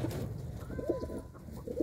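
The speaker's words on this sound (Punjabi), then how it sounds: "ਬਹੁਤ ਹੀ ਸੋਹਣੇ ਸੋਹਣੇ ਕਬੂਤਰ ਨੇ" Pigeons coo nearby in a loft where birds sit on eggs, giving soft, low, rolling calls that repeat several times over a light background hiss.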